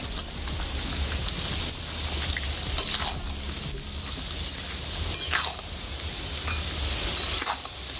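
Mango pieces dropped into partly melted, still grainy sugar syrup with a little water, stirred in a pan for a Bengali sour-spicy mango pickle; a steady close sizzle and bubbling with scraping stirs, no talking.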